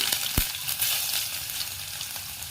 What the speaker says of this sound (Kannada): ಎಣ್ಣೆ ಚೆನ್ನಾಗಿ ಕಾದ್ಮೇಲೆ ಸ್ವಲ್ಪ ಸಾಸಿವೆ ಸ್ವಲ್ಪ ಜೀರಿಗೆ ಹೆಚ್ಕೊಂಡಿರೋ ಬೆಳ್ಳುಳ್ಳಿ